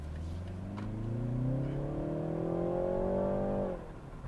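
2021 BMW 330i turbocharged engine accelerating hard in sport mode, a steady rising drone climbing in pitch for several seconds before easing off, heard from inside the compact sedan with no talking.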